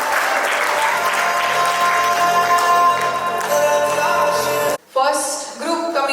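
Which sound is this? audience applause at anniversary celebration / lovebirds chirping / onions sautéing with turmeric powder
audience applause at anniversary celebration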